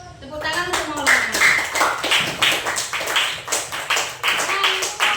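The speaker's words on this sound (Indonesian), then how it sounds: "Tepuk tangan untuk Maulana" Children in a classroom clap together in a rhythmic, fairly loud round, the claps pulsing steadily, with a teacher's voice speaking over the start.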